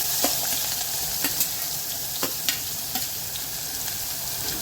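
Garlic, green chili and onion with curry leaves fry and get stirred in a pan, a dense continuous sizzle broken by several sharp spoon scrapes and taps, close up with no voices.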